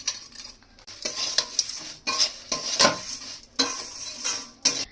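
Homemade chire bhaja with bhujia being stirred in a hot pan, a series of scraping, clinking spoon strokes in short bursts over a light sizzle, close and fairly quiet with no talking.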